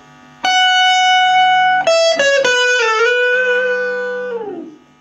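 Electric guitar played through a Stranger C15 beginner amplifier turned up to maximum volume, loud sustained bright notes with a few changing pitches, ringing for several seconds before fading out, no voices.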